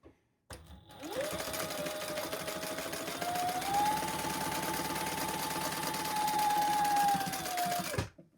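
A sewing machine top stitching a crossbody bag runs in one continuous eight-second burst, a close, steady mechanical whir that rises slightly in speed midway before stopping abruptly.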